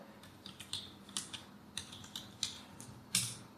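Quick, light clicking of a computer keyboard, with irregular taps clustered in short bursts, close and fairly soft against a quiet room, no one speaking.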